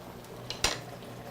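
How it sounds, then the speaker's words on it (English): A utensil stirs shrimp in a wok, a quiet scrape followed by one sharp metallic clink close by over a faint steady background hiss. "And what I do is I stir it all up, mix it up."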